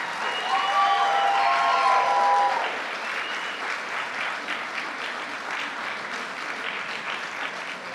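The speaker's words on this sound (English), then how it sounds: "how about one more round of applause for our two inductees?" Sustained audience applause at a Hall of Fame induction ceremony, a full room clapping steadily with a brief tonal ring early on, fading slightly toward the end.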